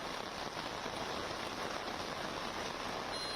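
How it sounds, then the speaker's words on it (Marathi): Heavy monsoon rain pours down over Mumbai in the early morning, a dense, steady hiss of drops on surfaces with no pauses, close and loud throughout with no voices. "आत्ताचे 7:30 वाजलेले आहेत तरी सुद्धा किती जोरात पाऊस पडतोय"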